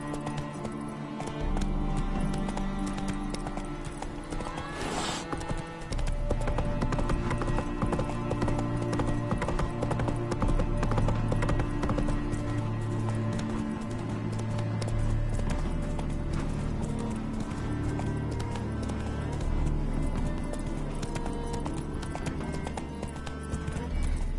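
Roach, a horse in The Witcher 3, gallops in a steady rapid clip-clop of hooves with an occasional whinny, carrying on continuously over a layered game soundscape.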